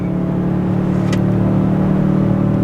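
A 2023 Toyota Tundra's twin-turbo engine tows about 9,000 pounds up a steep 6% grade, holding a loud, steady drone with a deep rumble and no break in the sound.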